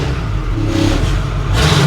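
A Ford COE truck engine fitted with a new 4-inch exhaust is blipped from idle toward 1,500 rpm, loud and close, with a rising rev and a fresh burst near the end over a rumbling exhaust.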